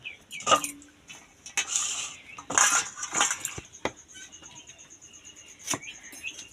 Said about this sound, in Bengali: গাজরগুলো ধুয়ে নেব গাজর কেটে নেব